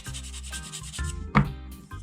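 Rhythmic rubbing strokes of sandpaper on a part from a 1/10 scale Tamiya Audi Quattro rally RC kit, wet sanding with water, close and moderately loud, repeated scrapes with one sharper stroke near the end.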